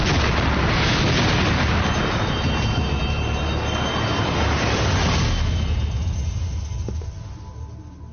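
In a wartime spy TV drama, an explosion goes off in the direction of a dance hall: a loud, sustained blast rumble that fills the scene and then slowly fades away, with no speech.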